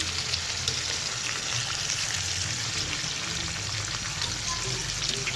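Chicken pieces fry in a pan over a medium flame for an Afghani chicken gravy, giving a steady, close, dense sizzle with soft crackles throughout and no talking.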